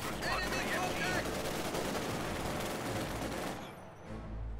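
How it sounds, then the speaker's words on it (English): Machine gun fire in the World War II strategy video game Company of Heroes makes a continuous, dense battlefield rattle of automatic shots mixed with other gunfire, which eases briefly near the end. "Machine gun ready."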